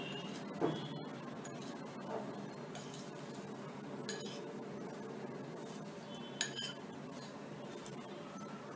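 Mango pickle with turmeric and rock salt is stirred in a bowl, making quiet scattered clinks and scrapes of a utensil against the bowl's sides, with no talk.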